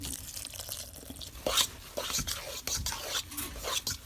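Water is poured from a cup into semolina dough for makrouds, with soft splashing, dripping and mixing sounds coming in uneven bursts close by.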